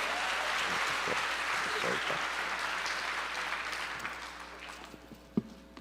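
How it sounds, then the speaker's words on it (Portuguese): A church congregation claps together in sustained applause indoors. It slowly fades toward the end. "Aplauda mais uma vez."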